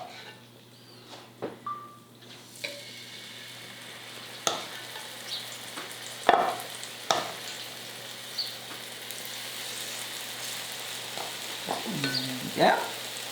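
Chicken tikka masala tenders frying in very hot vegetable oil give a faint, steady sizzle, with a few louder pops and crackles and occasional clinks of a utensil near the pan.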